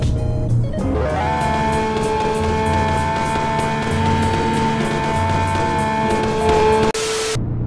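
A Roblox car game's virtual 2019 Silhouette Carbon SP704 supercar revs hard and loud for about six seconds, a sustained high engine drone with steady harmonics that stops abruptly near the end, replaced by a brief harsh burst.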